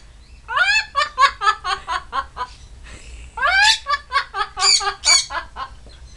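A pet Amazon or Quaker parrot vocalizes in rapid, raspy chattering squawks and cackling bursts, close and fairly loud, in two clusters separated by a short pause.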